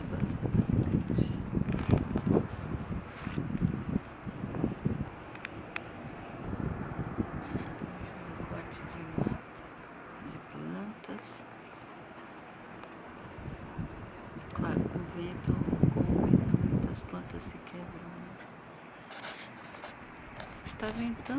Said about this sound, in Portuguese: Está ventando, mas já esteve pior, já não está tão forte.